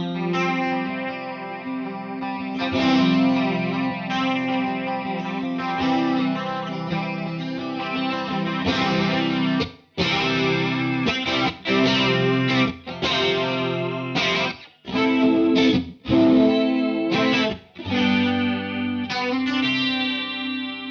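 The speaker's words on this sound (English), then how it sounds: "So let's see what the Paul setting does." An electric guitar plays through a PRS boutique effects pedal on its Paul setting, loud and sustained with chorus-like shimmer and distortion, chords ringing out then broken into short choppy stabs near the end.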